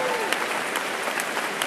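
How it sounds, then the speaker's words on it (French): Applause from a live audience at a corporate innovation awards evening, steady dense clapping with a few sharper claps standing out, under faint background voices. "On peut applaudir, s'il vous plaît"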